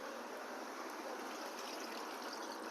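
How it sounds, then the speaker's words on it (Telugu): Water pours steadily into a pan of cashew and almond curry, a soft continuous stream heard up close and quietly, with no voices. "ఇప్పుడు దీనిలో కొంచెం తగినన్ని వాటర్ వేసి ఉడికించుకుందాము"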